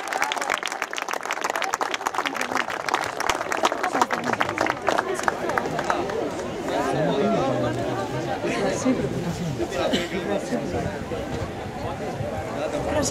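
A crowd at a boys' award ceremony for Olympia 2016 claps for a trophy winner; brisk, dense applause fills the first seconds, then gives way to loud chatter and cheering voices.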